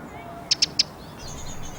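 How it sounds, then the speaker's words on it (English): A wren in a Tottenham churchyard gives three short, bright chirps in quick succession, followed by a faint, thin warbling trill at a distance. "the wren announces his fitness, challenging his neighbours to match the strength and variety of his song"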